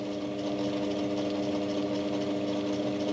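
A mini lathe converted to a DC treadmill motor runs steadily in reverse at about 300 RPM, giving a continuous, even mechanical whir with a strong tonal hum at constant loudness throughout.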